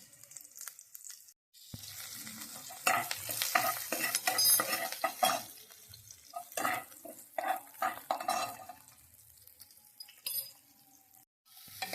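Onion frying in oil with a little salt while being stirred for poha, a home-cooked breakfast: steady crackling sizzle with repeated scraping and clinks of a spoon against the pan, close and fairly loud, with a brief pause early on.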